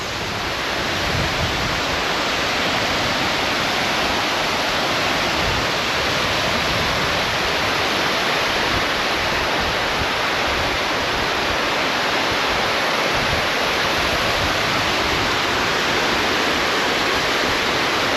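Bisibis Falls in Mauban, Quezon pours in a steady, loud, unbroken roar of falling water with broadband rushing noise, heard close up with no voices throughout.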